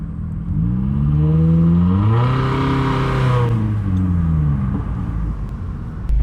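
A 2015 Toyota Corolla LE fitted with a Borla exhaust revs up close and loud, its engine note climbing, holding high for a moment, then settling back toward idle, with no voices present.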